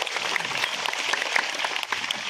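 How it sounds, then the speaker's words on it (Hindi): Audience applauding at a church gathering honoring a priest, a dense broadband patter of many hands clapping steadily and fairly close, with no talk over it. "जोर से एक बेर ताली बजाए दे वो कर लगिन"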